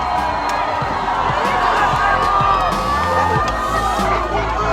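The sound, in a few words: crowd at a feminist demonstration shouting and cheering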